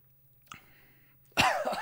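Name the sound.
cough after drinking a warming drink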